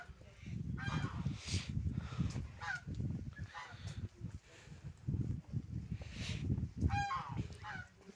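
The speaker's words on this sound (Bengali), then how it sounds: "দেখতে পাচ্ছেন রাজহাঁস।" Domestic geese on a river-island village homestead honk repeatedly in loud, nasal bursts, several calls overlapping in irregular clusters close by.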